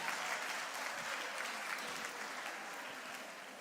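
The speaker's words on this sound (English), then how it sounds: "clap for yourselves once again" Steady applause from an audience at a STEM mentorship session at a senior high school, sustained and dense throughout without a break.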